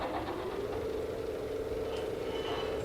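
Mason condensers spooling up aboard machinery in Dune Awakening, a steady, dense mechanical hum and drone holding at even loudness throughout, with a faint rising whine near the end.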